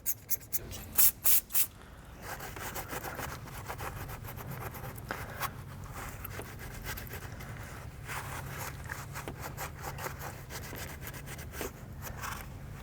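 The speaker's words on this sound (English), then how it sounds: "I just take a rag with a little bit of carb clean or brake clean. I just wipe it down to make sure all the debris is off." Rag dampened with carb or brake cleaner wiped over the intake valves of an MK7 VW GTI, giving steady close rubbing and scrubbing strokes, with a few sharp clicks at the start and no talk.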